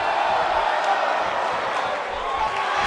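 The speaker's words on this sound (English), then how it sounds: "the crowd's on the edge of their seats" Video game wrestling crowd cheering during a Buriki Streets 2K18 women's match, a steady, loud roar of simulated arena noise with a commentator talking over it throughout.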